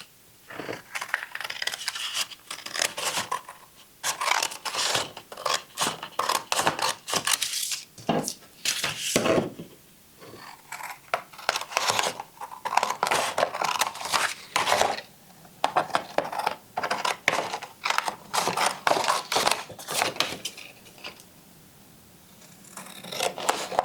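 Scissors snip through fabric for a sewing project, a steady run of close, crisp cuts with brief pauses between strokes, no talking.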